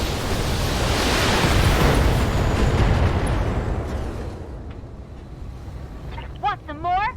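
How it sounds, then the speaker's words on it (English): A missile volley in the mech combat game BattleTech launches and detonates as a loud, long rumbling roar of blasts that swells, then fades into a low tail, with brief radio-style chatter near the end. "Let me tell you, the missile volley is going to be glorious."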